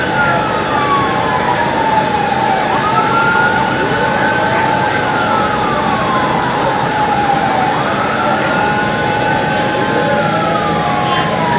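Fire truck sirens wail in overlapping rising and falling sweeps as several fire engines arrive at a blaze in Barangay Santa Ana, Taytay, loud and continuous over a steady wash of street and engine noise.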